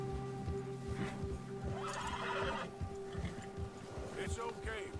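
In the video game Red Dead Redemption 2, a startled horse gives a loud, shrill whinny over clip-clopping hooves and a steady tonal background, with voices talking alongside.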